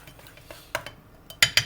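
A metal spoon clinks and scrapes against a bowl while egg yolks are spooned into a chocolate mousse mixture, giving a few sharp taps in quick succession over a quiet background.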